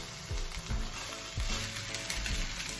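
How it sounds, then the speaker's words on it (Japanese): Rice being stir-fried over high heat with soup and mixed ingredients for Thai-style fried rice, a steady close sizzle broken by rhythmic scraping strokes of the spatula roughly every half second. "スープと具材と米がかき混ざるように炒めます。"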